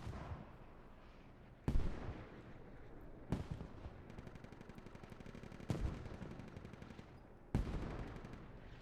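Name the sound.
mortar fire in a video game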